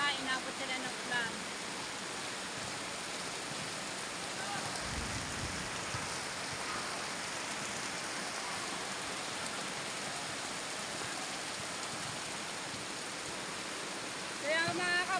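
Heavy afternoon rain pours down steadily as a dense, even hiss that stays loud and constant throughout, with no talking heard over it.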